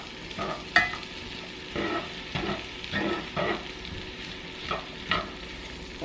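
Chopped onions fry and sizzle in a pan for French onion chicken, with a steady hiss broken by repeated scraping stir strokes at a loose rhythm, close and moderately loud, no talking.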